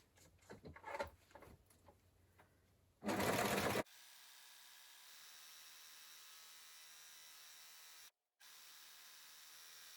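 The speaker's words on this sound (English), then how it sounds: "I'm going to overlock round all the pieces that I've got now" An overlocker edges crushed polyester velvet skirt pieces. The first seconds bring uneven mechanical clicks and handling noises, then a short loud burst, followed by a steady faint whirring hum with a brief dropout near the end.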